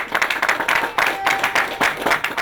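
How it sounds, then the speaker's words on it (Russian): A theater audience gives an ovation to the actors at the end of a drama play, with dense, rhythmic clapping rising in waves and continuing throughout. "Под конец пьесы традиционное прощание со зрителями, чествующими всех актеров заслуженными овациями"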